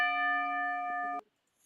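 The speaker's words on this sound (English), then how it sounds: "we got a proper bell now, Havoc." A wrestling ring bell rings with one sustained clear metallic tone that rings on, then is cut off abruptly into near silence.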